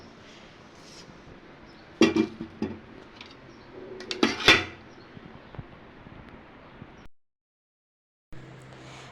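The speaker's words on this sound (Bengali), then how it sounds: "চায়ের কাপেলেরগুলো ধোয়া হয়নি তো ওগুলো ধুয়ে নেব" Tea cups and dishes being washed by hand, with a few sharp clinks and clatters of crockery standing out over a low background hiss, then a brief silence before quiet noise resumes.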